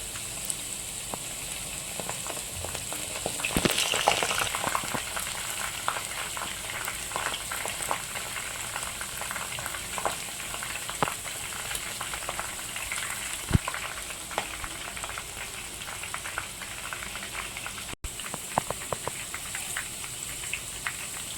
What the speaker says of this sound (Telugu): ఇలా అన్నింటినీ వేసుకొని ఒక టూ మినిట్స్ బాగా ఫ్రై చేసుకోవాలి